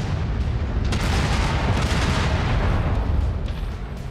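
Incoming missiles explode in the MechWarrior 5 mech combat game, a loud, dense, continuous roar of booming blasts and crackling debris that holds steady for several seconds and then eases slightly, with no voices.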